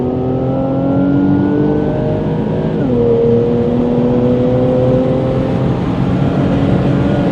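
A full bolt-on Infiniti Q60 accelerating hard from inside the cabin, its engine droning loud and steady as the revs climb, then a brief dip at a gear change before pulling strongly again.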